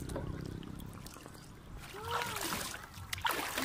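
A paddle splashes and sloshes water while a small boat is rowed off a beach resort, with irregular wet strokes close by under ongoing chatter and voices.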